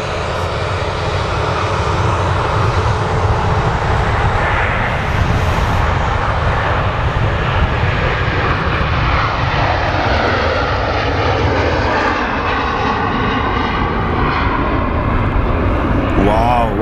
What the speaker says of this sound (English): Three Jet 2s on the taxi out now.